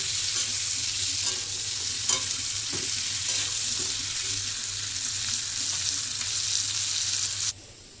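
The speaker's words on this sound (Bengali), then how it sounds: "পটলটা আমি ভালো করে একটু ভেজে নিচ্ছি" Pointed gourd pieces fry with turmeric and salt in a pan, making a steady, close hissing sizzle broken by a few soft stirring scrapes until it suddenly drops away near the end.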